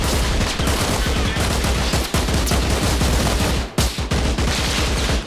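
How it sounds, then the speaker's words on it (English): Dense rapid gunfire in the military shooter Arma Reforger, attributed to an M21 rifle: loud, close shots in a fast continuous fusillade with a brief pause near the end, no talking. "he's firing an M21 like a madman towards the enemy"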